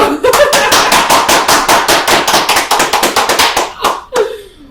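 Rapid, loud rhythmic clapping by a small group during a Korean functional-medicine lecture on cholesterol, close to the microphone and fading out near the end before one final sharp clap.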